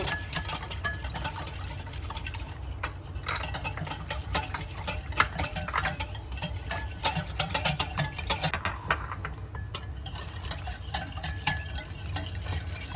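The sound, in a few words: stirring yeast, sugar and water in a bowl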